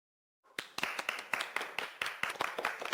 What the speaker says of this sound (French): Allez, applaudissons le courage de Xueman